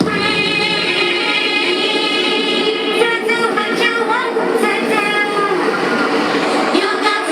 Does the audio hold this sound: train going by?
yes